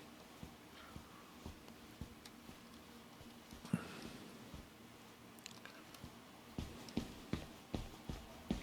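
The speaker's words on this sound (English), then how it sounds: "those footsteps sound different" Footsteps of a character walking in the tactical shooter Ground Branch, soft rubber-soled steps landing as faint, muffled thuds that grow more regular and slightly louder toward the end.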